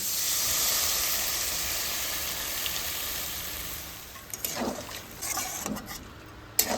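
Water poured into a pan of frying spiced fish curry, a Bengali-style masala fish jhol, hisses and sizzles steadily, loud and close, easing off before a few clatters near the end.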